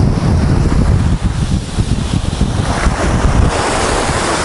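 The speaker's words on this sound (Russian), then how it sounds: "Море, шум волн." Waves from the Sea of Azov wash onto the shore at Golubitskaya in a constant loud rush of surf. Wind buffets the microphone throughout.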